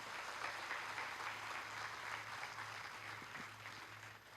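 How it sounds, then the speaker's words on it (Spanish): A church congregation applauds the youth, a steady wash of clapping that holds for several seconds at a fairly soft, distant level with a low hum beneath. "Vamos a darle un aplauso a los jóvenes."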